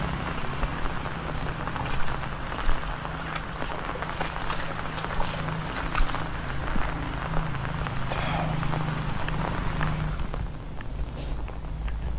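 Steady rain pattering on surfaces during a typhoon, with a low constant rumble underneath, continuous and fairly loud throughout, no speech.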